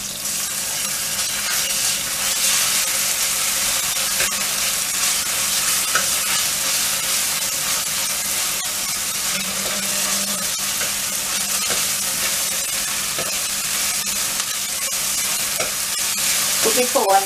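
Onions frying with ginger garlic paste in a pan for spinach khichadi, with a steady loud sizzle throughout and the scrape of stirring near the end.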